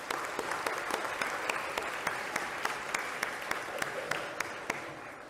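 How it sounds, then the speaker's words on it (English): An audience at a children's Christmas poetry lecture claps steadily, a dense, even round of applause with sharp individual claps standing out, moderately distant and without speech. "you really do need a round of applause there"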